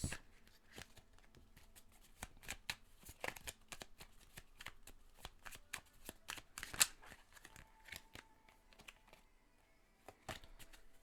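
Tarot cards are shuffled and drawn in a quiet room: a run of soft, rapid riffling flutters and crisp card snaps, close and fairly faint, with no talking.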